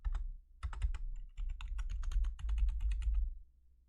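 Bursts of computer keyboard typing at a streaming desk, quick clustered key clicks with brief pauses between flurries, close up over a low background hum and fading out at the end, no voices.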